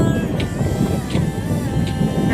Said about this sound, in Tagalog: Medyo mahangin guys, kaya okay lang, hindi mainit. Medyo okay yung hangin.